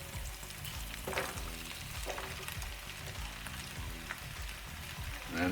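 Pumpkin, mushrooms and okra fry in hot oil in a pan, giving a steady, close sizzle with scraping stir sounds throughout and no talking.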